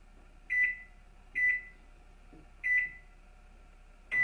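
Microwave oven keypad beeping as the cook timer is set: four short, clear electronic beeps spaced about a second apart in an otherwise quiet room.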